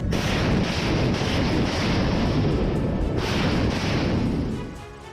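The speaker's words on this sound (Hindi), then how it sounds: "जारी वीडियो में यूक्रेनी फौज के ठिकानों पर रूसी फौज मल्टीपल लॉन्च रॉकेट सिस्टम से ताबड़तोड़ हमले करते दिख रही है" A Russian multiple launch rocket system fires on Ukrainian positions in a dense, continuous roaring barrage of overlapping blasts that stays loud before tailing off at the end.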